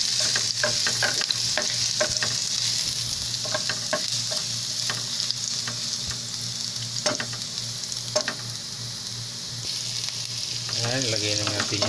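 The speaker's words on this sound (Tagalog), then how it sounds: "Sauté lang natin sa bawang at sibuyas. Ayan, sinalang na natin yung bawang." Garlic sautés in hot oil for pink salmon, giving a loud, continuous sizzle that never lets up, broken by scattered sharp ticks and scrapes as the pan is stirred.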